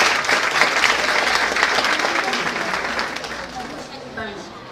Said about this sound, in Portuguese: Então eu quero pedir uma salva de palmas para vocês